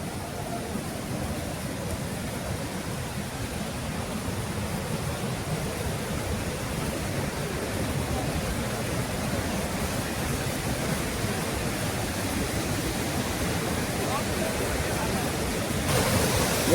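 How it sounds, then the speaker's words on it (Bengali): Durga Falls waterfall, a steady, dense rush of falling water that stays even and loud from start to finish with no pauses, heard close by and alone. "এই হচ্ছে দুর্গা ফলস। দেখো জল নামছে, ঝর্ণার জল দেখতে পাচ্ছ।"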